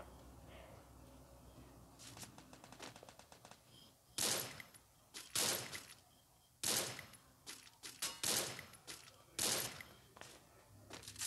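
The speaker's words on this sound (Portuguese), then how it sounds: "Acertei um tiro nesse cara." Sharp gunshots crack in quick bursts and single shots over a low game background, rapid volleys growing louder toward the middle, no talking.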